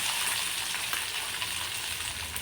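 Green chillies hiss and sizzle loudly as they fry in hot oil with asafoetida for a chilli-lemon pickle, a dense steady crackle with no voices.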